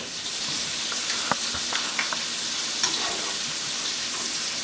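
Butter melting and sizzling in a hot pan beside a steak, a steady close frying hiss with a few small pops and crackles scattered through it.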